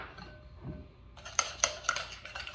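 A utensil stirs an orange sugar scrub in a bowl, a quiet scrape followed by several close, bright clinks against the bowl, with no talking.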